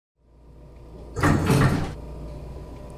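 A door opens and closes in a radio-drama style scene: one dense, fairly loud swish and clunk that rises after a quiet lead-in and fades into a soft room hum.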